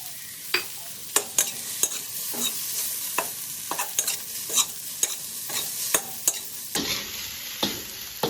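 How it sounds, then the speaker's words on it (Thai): Okra and egg stir-fried in a pan for a Thai dish: a utensil scrapes and stirs in steady rhythmic strokes over a continuous soft sizzle, close and with no talking. "ก็ผัดให้เขาเข้ากันนะคะ แล้วเราก็ใส่ไข่ลงไปค่ะ"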